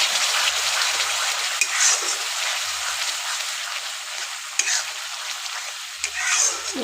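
Spice paste for chicken gravy frying in oil while being stirred in a pot, a steady soft sizzle with occasional scraping strokes of the spoon against the bottom, fairly quiet and without talk.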